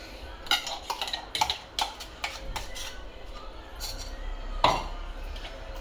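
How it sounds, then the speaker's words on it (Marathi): Parwal seed chutney being scraped out of a pan into a vessel, with a string of sharp metallic clinks and scrapes of a spoon against the pan, close by, between quiet pauses. "आता मी हिला भांड्यात काढून घेते"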